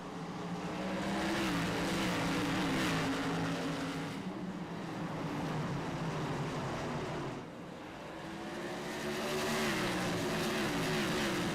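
Whelen Modified race cars thunder together in a virtual oval race at Southern National, engines droning loud and steady as the pack accelerates, with pitch rising and falling in two sweeping waves as the cars pass, close and without speech.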